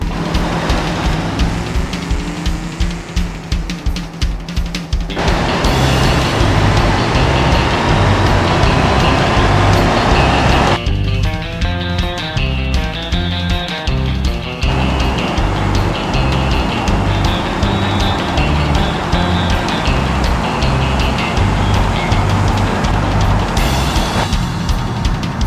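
A 1992 Chevy Caprice engine driven in BeamNG.drive, a loud continuous motor drone with rhythmic pulsing, shifting pitch and timbre through several segments as it revs and changes gear, with no talk.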